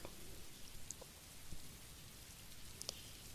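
Calming rain falls steadily, a soft, even hiss of drops with a few faint distant rumbles, quiet and continuous with no voices.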